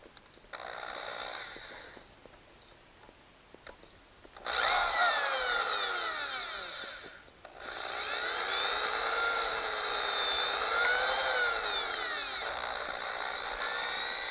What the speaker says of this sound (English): Drill through two holes.